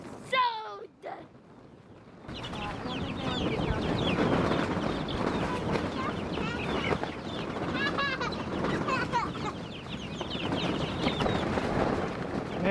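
Young chicks and hens cluck and peep on a homestead on a windy day, their calls scattered through a steady wash of wind noise, with people talking nearby.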